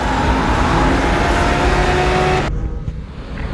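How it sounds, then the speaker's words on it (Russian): A BMW races alongside a bus on a busy city street, its loud, steady engine roar filling the air before cutting off abruptly partway through. "что BMW гоняется с автобусом"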